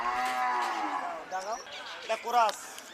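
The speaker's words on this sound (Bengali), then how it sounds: "আমরা আরো একটা গরু দেখতে পাচ্ছি" A bull moos nearby at a cattle market, one long low call followed by shorter lowing sounds, loud and clear with no other voices.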